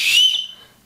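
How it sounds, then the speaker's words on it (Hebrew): A small plastic whistle built into a survival bracelet gives one loud, shrill blast that fades out within a second. "יש לו כאן משרוקית"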